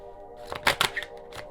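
Beyond Lemuria oracle cards being shuffled by hand: a few quick papery riffles and slaps bunched close together, near and fairly quiet, with no talking over them.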